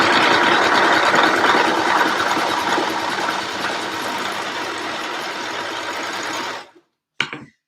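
An overlocker runs steadily along the edges of dress fabric that frays easily, a loud continuous mechanical whir for about six and a half seconds before stopping, followed by a brief short burst.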